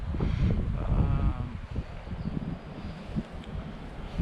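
Wind blowing outdoors on a South Island hunting trip, a steady rushing, buffeting noise against the microphone that stays loud and continuous throughout.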